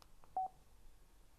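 A Cardo PACKTALK BOLD motorcycle intercom gives a short electronic tone after its phone button is pressed, a brief, clean beep or two heard alone against near silence.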